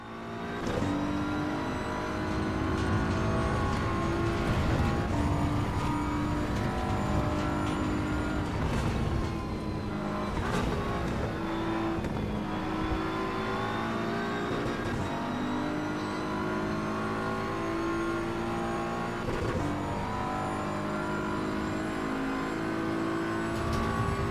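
Ferrari race cars in Assetto Corsa EVO at the Nürburgring roar continuously, engines revving and shifting pitch as they accelerate and ease off, loud and steady throughout with no talking.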